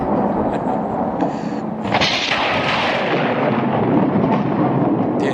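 A church congregation mimics thunder with their voices, a loud rumbling, crashing roar of many people swelling together and sustained for several seconds in a large hall.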